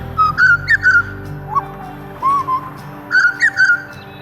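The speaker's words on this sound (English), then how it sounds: "beautiful Australian native birds" Australian native birds call in clusters of clear, warbling whistled notes, repeated three times with short gaps between them, loud and close over a steady low hum.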